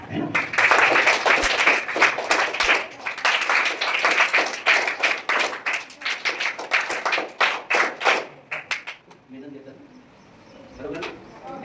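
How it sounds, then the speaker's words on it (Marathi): A group of children clap their hands in a fast, ragged burst of applause that lasts several seconds, then thins to scattered claps, with voices heard as it fades. "तसंच वाजवायच्या टाळ्या, है ना?"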